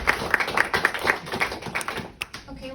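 A small comedy show audience claps in a short, scattered burst of hand claps that thins out and fades after about two seconds.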